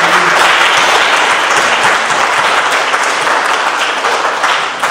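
Sustained, loud applause from a graduation audience fills the room, dense clapping from many hands running steadily throughout and tapering slightly toward the end, with no voices over it.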